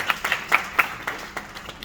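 Scattered hand claps from an audience at a poetry gathering in Bhiwani, a short burst of uneven individual claps that thins out quickly, fairly close and with no voices.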